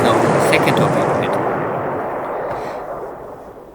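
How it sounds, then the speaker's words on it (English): A torpedo strikes a ship in the naval war game War in the Pacific, a loud, deep explosion that booms at once and then rumbles and fades slowly over several seconds. "this is now the second torpedo hit."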